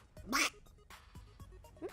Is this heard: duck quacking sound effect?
yes